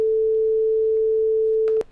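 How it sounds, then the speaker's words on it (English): A steady synthesized 440 Hz sine tone, a pure A note, holds clean and unchanging for nearly two seconds before cutting off with a small click. "So you can play a sine wave at, say, 440 Hertz."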